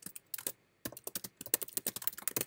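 Close, crisp typing on a computer keyboard while entering a new blog category in WordPress: quick bursts of clicking keystrokes separated by a brief pause, no talk.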